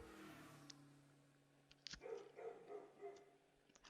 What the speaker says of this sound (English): I wonder why the dogs are barking.